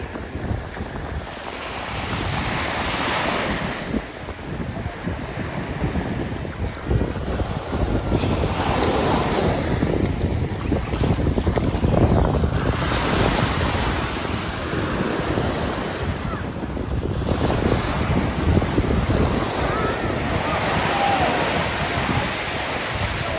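Ocean waves surge and wash continuously onto a beach in Spain, loud and near, mixed with strong wind buffeting the microphone and faint voices in the distance.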